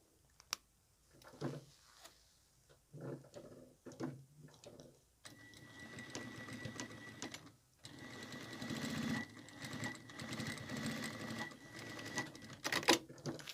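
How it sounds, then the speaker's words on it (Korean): A sewing machine stitches folded fabric for a handmade fabric wallet pouch, starting in short ticking bursts, then running longer continuous whirring stretches, close and fairly quiet. "반으로 접은 상태에서 이렇게 해서 박음질을 해줘서 막아주고요."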